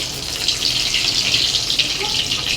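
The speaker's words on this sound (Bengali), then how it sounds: "ভাজি তেলের মধ্যে তেলটা ভেজে নিয়েছি, তারপর ডিমগুলো দিয়ে দিচ্ছি সুন্দরভাবে।" Eggs frying in hot oil in a pan, a steady bright hiss that holds evenly at close range with no voices.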